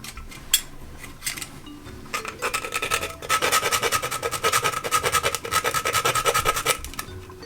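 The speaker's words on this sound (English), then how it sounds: "Then I'm going to grate our nutmeg into that." Nutmeg rubbed against a grater into jackfruit punch, giving close, steady rasping scrapes, sparse at first and then a fast, even back-and-forth rhythm with no talk.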